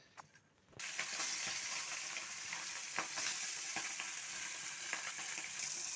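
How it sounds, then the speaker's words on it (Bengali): Small fish rubbed with salt and turmeric frying in hot oil in a wok, a loud dense sizzle that bursts in after a brief quiet start and crackles steadily with sharp pops throughout. "এখন আমি মাছগুলো ভেজে নেব"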